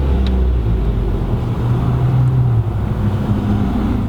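A 2014 Dodge Dart SXT Blacktop engine runs after starting, a steady, moderately loud hum with a brief higher whir near the beginning, heard from close by without any talk.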